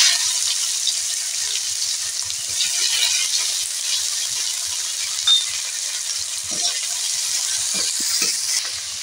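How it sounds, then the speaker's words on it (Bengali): Chopped onion sizzles and fries in darkly fried spices for a spicy mutton curry, a steady bright crackle with scattered stirring clinks, close and alone. "আর দিয়ে দেব পেঁয়াজ কুচনো।"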